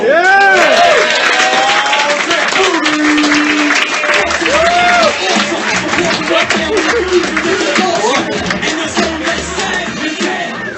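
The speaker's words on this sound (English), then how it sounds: "Clap it up for Chris Scopo" Comedy roast crowd clapping for roaster Chris Scopo, a loud, steady burst of applause mixed with cheering, chuckles and excited voices calling out across the room.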